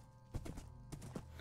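Hooves of a skeleton horse in the Minecraft Bedrock video game clop in a few soft, irregular steps, faint and close, with no talk over them.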